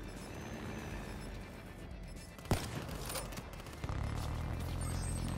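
A sniper rifle shot in the Black Ops 3 video game: one sharp, loud crack stands out over steady background game noise and scattered distant gunfire.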